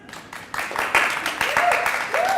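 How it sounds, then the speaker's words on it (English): An audience clapping hands in a live crowd, a ragged burst of applause that swells and stays steady for a couple of seconds, with voices mixed into the noise. "I'm going to use just the sound of the clapping."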